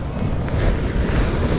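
Ocean surf on a hurricane-swept beach, heard as a loud, rumbling wash of breaking waves and heavy wind buffeting the microphone, continuous and close.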